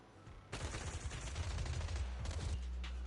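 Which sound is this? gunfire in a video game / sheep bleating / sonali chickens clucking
gunfire in a video game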